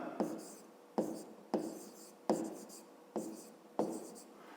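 Pen writing by hand on paper during a fifth-grade maths lesson, six evenly spaced scratchy strokes, each a sharp onset that fades, close and quiet.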